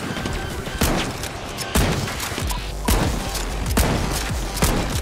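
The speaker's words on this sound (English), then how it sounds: "Seeing as I have the shotgun, the KS, I'm gonna start breaking these trees over here." Shotgun blasts in the video game The Finals as trees are broken apart: five heavy booms at roughly one-second intervals, each followed by crashing, splintering debris, loud and close, with no talking.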